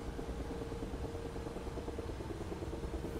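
A Ka-50 helicopter engine spools up in the DCS flight sim as a faint, steady turbine hum and whine that holds without breaks, distant and alone.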